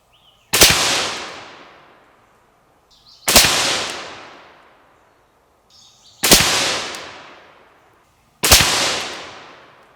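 Four single 6.5 Grendel rifle shots with a 120gr Speer Gold Dot load, each a sharp, loud crack with a decaying echo, spaced roughly three seconds apart, with faint clicks between shots.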